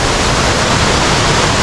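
Tanap-Avis Falls pours down nearby, a loud, dense, unbroken roar of rushing water filling the whole short stretch.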